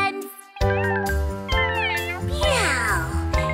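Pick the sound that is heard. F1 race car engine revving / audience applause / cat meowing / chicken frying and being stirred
cat meowing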